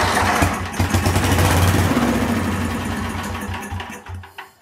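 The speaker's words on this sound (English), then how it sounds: "So I'll see if we can crank her up." Old Sears tractor engine cranking and sputtering with choke and throttle set, a loud rough chugging rhythm that runs briefly then falters and fades toward the end.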